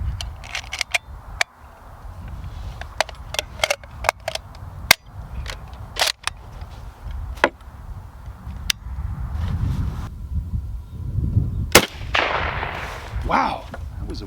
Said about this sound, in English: let's take another couple of shots and see where it hits